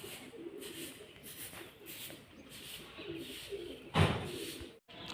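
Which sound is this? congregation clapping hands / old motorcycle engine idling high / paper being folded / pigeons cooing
pigeons cooing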